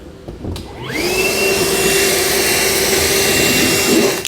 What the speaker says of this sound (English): we're going to take our vacuum, clean up all the mess that we've made here